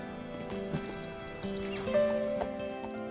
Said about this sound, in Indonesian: terlihat kudanya pun mengejar Jackie meskipun harus jatuh berkali-kali